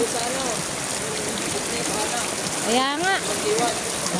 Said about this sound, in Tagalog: Ayaw pa rin tumigil ng ulan.